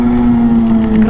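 Kawasaki ZH2 motorcycle exhaust after riding through flood water, a loud steady engine drone held close for about a second with no voices.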